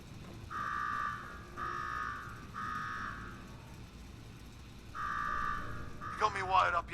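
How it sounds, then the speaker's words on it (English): Alarm ringing in the Fallout 4 video game: four sustained buzzing blasts of about a second each with short gaps, fairly loud over background noise, followed by someone speaking at the end. "Now go shut off that damn alarm."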